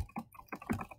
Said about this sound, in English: you can erase it and begin typing your own things there.